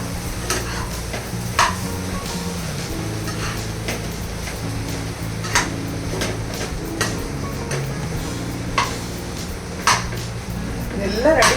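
Chicken mix with garlic paste frying and being stirred in a pan, repeated scraping and clinking of the utensil against the pan over a steady sizzle.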